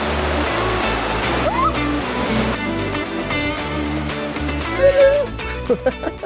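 Water rushes continuously at the Lemukih Waterslide in Bali, a steady, full roar of flowing water that stays loud and close throughout, with faint voices underneath.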